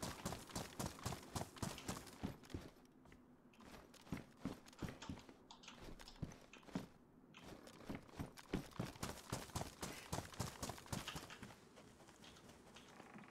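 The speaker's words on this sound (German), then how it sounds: "Ich habe gerade irgendwie Schritte gehört, obwohl ich stand." Rapid, irregular footstep-like taps from a character moving in the survival video game DayZ, a steady run of sharp transients across the whole stretch at moderate level, with no talking.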